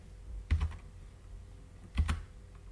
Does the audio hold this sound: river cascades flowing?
no